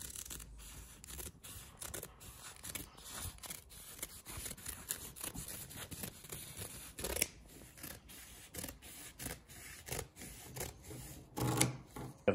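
Scissors cutting through a piece of carbon fibre cloth for a VW wagon drag spoiler, a steady run of crisp snipping and rustling strokes, close and fairly loud, with no talking.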